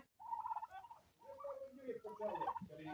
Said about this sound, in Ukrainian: Чотири індики і п'ять індичок